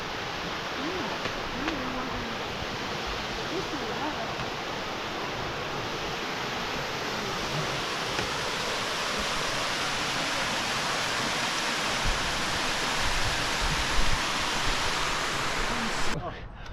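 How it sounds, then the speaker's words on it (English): A waterfall on a mountain hike in the White Mountains roars as a loud, steady broadband rush that fills the whole stretch, with a voice faintly present near the beginning. "Nice waterfall."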